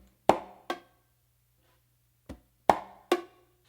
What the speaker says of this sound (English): you're gonna do a close slap and then an open on the macho